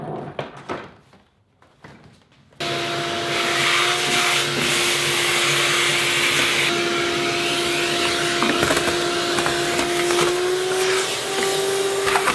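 Shop vacuum cleaning out the interior of a 1966 Ford Mustang, switching on abruptly after some light rustling and running as a loud, steady whine with shifting suction as the nozzle moves around.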